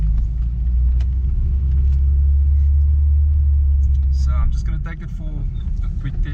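A Mk1 Volkswagen Golf with cut springs on a test drive, a steady low engine and road rumble from inside the car, with a faint rattle and thumps near the end.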